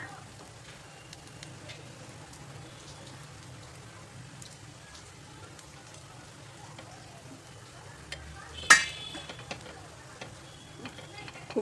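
Puffed snacks for a school tiffin box frying in oil after being flipped, giving a soft, steady sizzle with one sharp clatter near the end.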